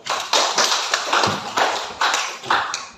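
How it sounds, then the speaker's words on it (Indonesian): Students in a classroom applaud a classmate, a dense, steady round of clapping with slight rhythmic pulses, close and moderately loud, with no speech. "tepuk tangan buat Amel dulu"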